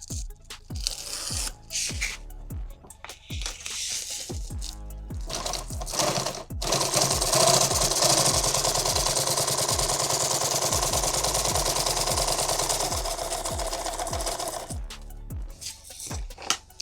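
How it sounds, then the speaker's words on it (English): An industrial sewing machine runs in bursts, stitching the separated sections of a six-magazine pistol pack one by one; rapid needle thumps start and stop between runs, with one long sustained run in the middle, close and loud, no talking. "So I have separated and I'm just sewing them independently"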